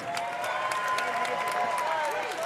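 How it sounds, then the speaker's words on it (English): A fight-night crowd at a boxing event applauds the fighters in the ring, a steady wash of clapping and cheering under a commentator's continuous voice. "A huge round of applause for our fighters in the ring."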